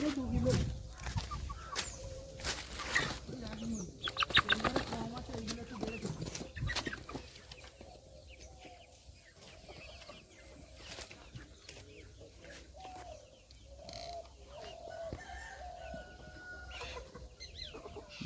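Chickens clucking busily with a rooster crowing now and then, plus wing flaps and voices talking in the background, at a rooster farm under a bamboo grove.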